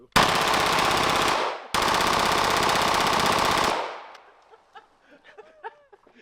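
Rapid automatic gunfire in a ranch video game, aimed at a rabbit: two long, dense bursts of loud shots with a brief gap between them, followed by quieter scattered pops and clicks as the firing stops.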